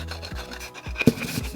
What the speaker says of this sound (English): we're going to take our wax and we're just going to rub it along the edges of our plaque